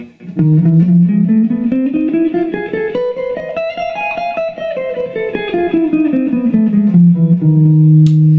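A guitar plays a slow double harmonic minor mode scale rising and then descending, single sustained notes ringing clearly with no voices.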